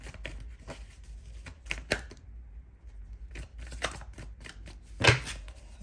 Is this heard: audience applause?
no